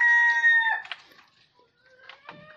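Desi chickens on a poultry farm: a rooster crows loudly and close by at the start, then fainter clucks and short calls from the hens follow.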